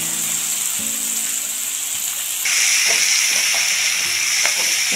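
Sliced onions frying in hot oil for biryani give a loud, continuous sizzle and hiss that swells partway through, with faint stirring clatters mixed in and no talking.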